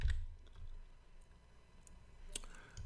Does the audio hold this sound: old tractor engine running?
no